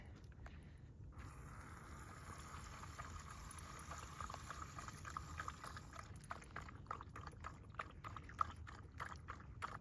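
Water runs into a drink bottle outdoors, a faint, continuous trickling pour that stops partway through, followed by quieter clicks and handling noises.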